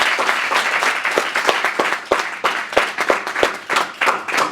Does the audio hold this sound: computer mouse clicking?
no